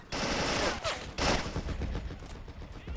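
Dense bursts of automatic gunfire from the World War II strategy game Men of War: Assault Squad, loud and continuous with rapid overlapping shots across the whole moment, no talking.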